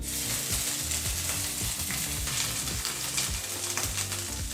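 Grated ginger frying in hot oil for khara pongal, a steady close sizzle that crackles on without a break, with no voices.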